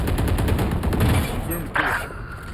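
Gunfire in the shooter game Valorant, a rapid burst of close automatic shots in the first half followed by a sharper single report and quieter aftermath.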